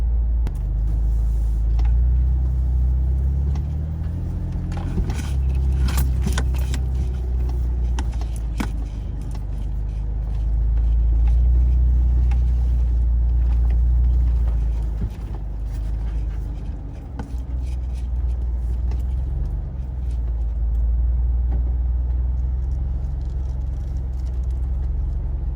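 An off-road vehicle reverses out of a dead-end track in New Zealand's Central Plateau and Desert Road area, its engine making a steady low rumble close by with a few clunks and knocks along the way.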